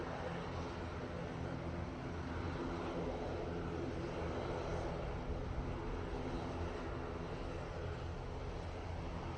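A Lufthansa airliner touches down at Manchester Airport, its engines a steady, broad roar that stays at an even loudness throughout, heard from a distance with no voices over it.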